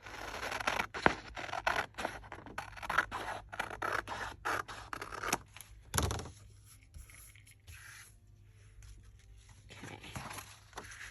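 Scissors cut through a cardboard macaroni box with a quick run of close snips and scrapes, then the sound thins to sparse, quieter rustling. No one speaks.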